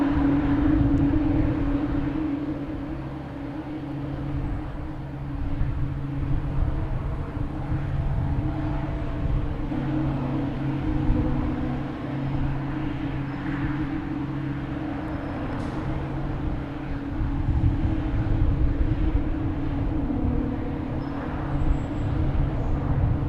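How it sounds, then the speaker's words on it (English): A JetBlue airliner on the ground at Boston Logan Airport makes a steady, droning engine roar, continuous and moderately loud throughout with slight swells. "That JetBlue there in the alley making all this racket."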